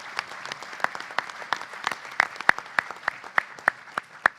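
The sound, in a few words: audience applause at symposium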